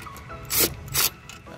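Two quick ratcheting bursts, close and crisp, separated by a brief pause, with faint mechanical clicks around them, as a ratchet with a 10 mm socket tightens a battery hold-down on a 2014 Nissan Pathfinder.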